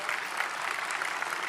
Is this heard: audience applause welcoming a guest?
yes